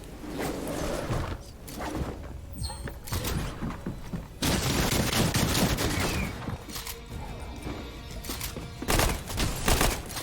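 A primitive light machine gun fires in Fortnite in rapid, dense bursts, with loud rattling volleys that come in waves and short pauses between them.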